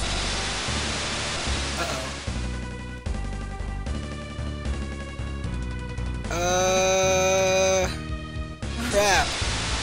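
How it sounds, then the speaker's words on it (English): In the video game Golden Sun, a waterfall flowing upward gives a steady, hissing rush of water, with tonal game music playing over it and swelling partway through. "Oh, the waterfall is falling up now."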